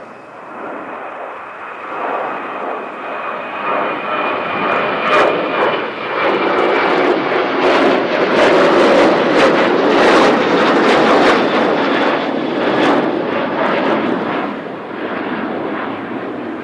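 Qantas jet airliner climbing steeply on takeoff in strong winds of 50 km/h and more at Christchurch airport, a loud, sustained engine roar swelling and fading over the full length, buffeted by gusty wind bursts.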